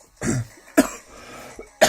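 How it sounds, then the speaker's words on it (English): Several sharp, loud coughs in separate bursts with short pauses between, one person coughing or choking alone with no talk. "When I can stop coughing or choking"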